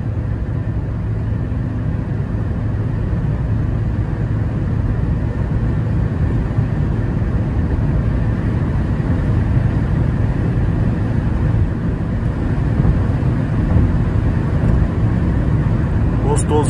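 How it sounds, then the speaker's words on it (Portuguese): Inside a moving 2024 Peugeot 208 Style 1.0 on the highway, a steady loud rush of wind and road noise comes in through the open sunroof area and fills the cabin, continuous and unbroken. "por isso tá fazendo um pouco mais barulho de vento"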